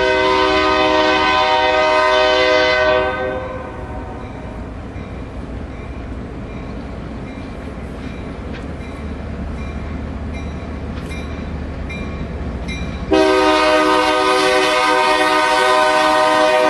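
A BICB freight train pulls in at Seneca behind lead locomotive 705, its horn sounding loud, sustained blasts at the start and again at the end, with a steady rolling rumble of railcars in between.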